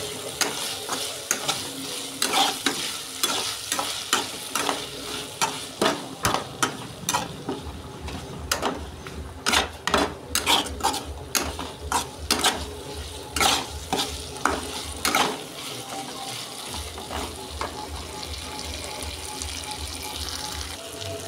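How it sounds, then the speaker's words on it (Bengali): Ghetkul curry fries in a pan while being stirred: a long run of repeated spatula scrapes and taps over a continuous low sizzle, with some watery bubbling, close and steady, no voices. "ঘেটকুলটা ভালোভাবে নাড়াচাড়া করে জলটা একদম শুকিয়ে নিতে হবে।"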